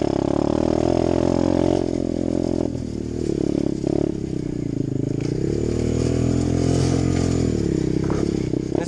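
An Apollo 125cc dirt bike engine labours up a hill in second gear, a loud, close, steady motor drone that wavers slightly in pitch as it climbs.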